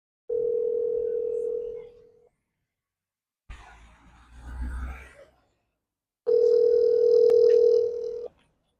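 A steady telephone dial tone sounds while a call is being placed, first for about two seconds, then after a short burst of mixed noise and rustle it returns loud and unbroken for another two seconds.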